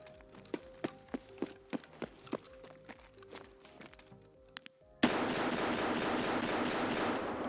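A shotgun fires in the Escape from Tarkov video game, about nine sharp separate blasts in an irregular rhythm, followed abruptly by a steady loud noisy rush, with no talking.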